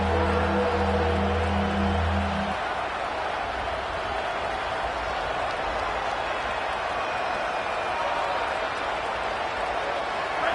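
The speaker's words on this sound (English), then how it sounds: "Man, this crowd really affecting the football game." Home crowd at an LSU Tigers college football game roaring steadily, a loud, continuous wash of cheering that holds at full level throughout, with a brief low rumble at the start.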